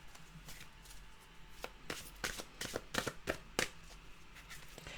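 A deck of mantra cards being shuffled by hand: quiet, close riffling and crisp card snaps in irregular bursts, busiest in the middle, with no talk.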